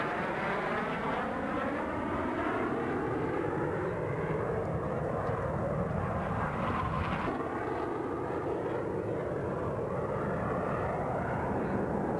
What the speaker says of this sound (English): The diamond will pass before us and exit the flight line to our right.